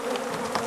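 Bees buzz in a dense, continuous drone during a bee removal with a bee vacuum, a close, steady hum that wavers slightly in pitch.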